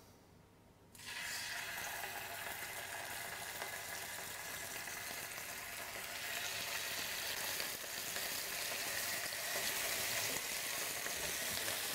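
Steaks dropped into hot oil in a pan, with a sudden loud sizzle bursting in after a second of quiet and then frying steadily and evenly with no talk.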